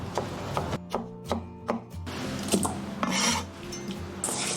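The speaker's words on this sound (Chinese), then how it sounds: "煮之前我们要给它拍一拍，然后切成小块哈" Peeled iron-stick Chinese yam is smashed and then chopped into small pieces on a board, giving a run of sharp, close knife strikes with scraping between them and no talk.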